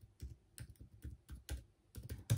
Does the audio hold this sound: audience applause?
no